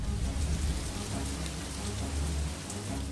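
Steady rain hisses evenly with a dense wash of drops, constant and fairly loud, with a faint low rumble underneath and no voices.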